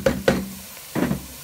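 A few knocking clatters of a metal lid set onto a saucepan while cooking vegetable pilaf, two quick hits then another shortly after, close by.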